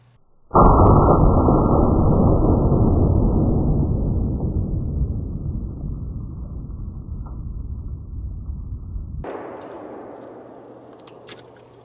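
A single sharp Savage Axis 30-06 rifle shot fired outdoors at a target, a loud close blast that rings out and decays over several seconds, followed by a fainter second crack or impact near the end.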